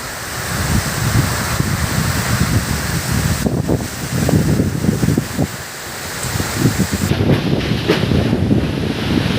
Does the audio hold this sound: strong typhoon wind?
yes